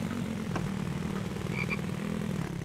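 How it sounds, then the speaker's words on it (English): A frog croaks in the survival video game The Infected, a steady pulsing croak chorus running loud and continuous throughout, with no talking. "Hello, Mr. Frog, I can hear you."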